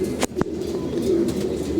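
A racing pigeon, just home after a month away at a race, coos indoors in a low, steady murmur that runs through the whole stretch, with a couple of brief sharp knocks near the start.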